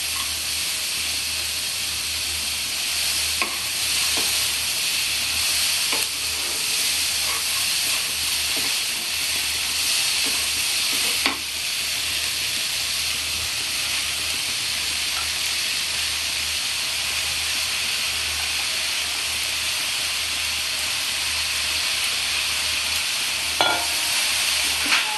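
Radish greens, tomato and other vegetables fry in a pan for a Bengali-style tarkari, giving a loud, steady hissing sizzle throughout with occasional soft knocks of stirring and no voices.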